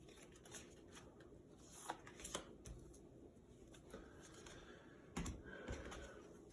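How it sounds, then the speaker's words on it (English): Quiet, close shuffling of an oracle card deck with scattered soft flicks and taps, a few sharper bursts standing out against a hushed room. "shuffling this deck, actually"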